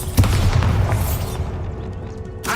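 A Bombarda explosion spell in Hogwarts Legacy goes off as a single loud, deep boom with a sharp onset, rumbling and decaying over about two seconds before a brief burst at the end.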